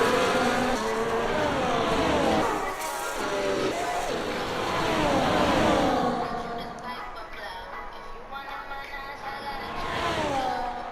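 Formula 1 race cars in a video game roar continuously, engines whining and shifting pitch as cars pass, with a French commentator talking over the racing throughout.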